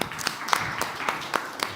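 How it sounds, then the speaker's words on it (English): An audience at a panel event on gender inequality and climate action in agrifood systems gives scattered claps, sharp separate hand strikes spread unevenly across nearly two seconds rather than a full, dense ovation. "Round of applause for her."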